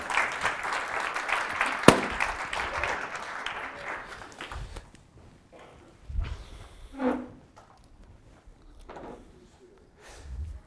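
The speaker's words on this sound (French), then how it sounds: "On peut les applaudir." Audience at a conference clapping loudly for a couple of seconds, then the applause tapers off into scattered claps, shuffling and quiet room noise.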